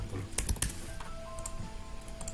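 Computer keyboard keys click in quick, uneven presses as the Ctrl D shortcut is typed during graphic design work, with close, crisp taps and no voice.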